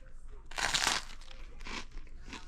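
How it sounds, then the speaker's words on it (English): Crunchy bites into a homemade French bread pizza topped with melted cheese and toasted pepperoni, with a loud crackling crunch followed by several softer chewing crunches close to the microphone. "Nice and crunchy, the cheese is melted"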